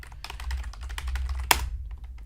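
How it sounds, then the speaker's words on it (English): Quick, dense keystrokes clatter on a computer keyboard in a fast burst, close and clear, with one sharper key hit standing out near the end. "I'm a very fast typer"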